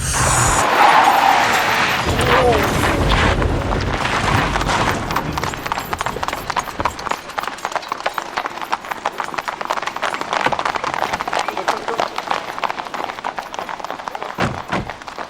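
Horses' hooves clip-clop rapidly during a chariot race in an English village setting, a loud, steady galloping clatter that runs throughout with no one speaking.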